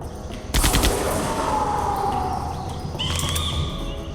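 Gunfire from Jurassic Park: The Game, a sudden loud burst of rapid shots that runs continuously for several seconds, joined later by a higher tonal cry or whine.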